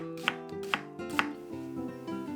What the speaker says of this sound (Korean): 양파 먼저 썰어놓고 시작하세요.